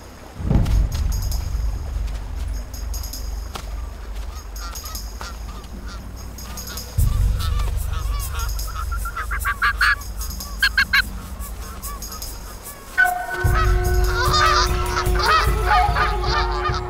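Canada geese honk loudly and close on the open tundra, in repeated bursts, with a steady rushing ambience beneath.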